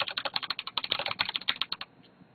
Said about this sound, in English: that's me typing normally.